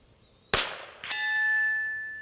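A .22LR high-velocity rifle shot at 100 yards: a sharp crack, then half a second later the metallic clang of the bullet striking a steel plate, which rings on with a clear sustained tone.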